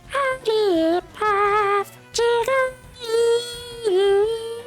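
A series of high, warbling electronic tones in short bursts, pitch bending up and down like a cartoonish creature cry, loud and close: a Pokémon cry, likely Jigglypuff's, in Pokémon Fire Red.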